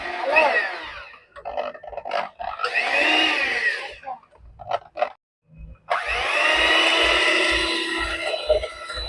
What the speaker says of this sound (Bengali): এইবারে 3টে জিনিসকে আমি ভালো করে হ্যান্ড মিক্সার দিয়ে ভালো করে মিক্সড করে নেব।